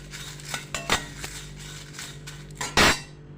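Fenugreek seeds dry-roasting in a pan as a spoon stirs them, producing a handful of close metallic clinks and scrapes with a louder clatter near the end, no sizzle.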